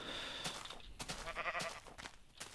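Sheep in the Minecraft video game give several quiet, wavering bleats in quick succession, with faint background noise.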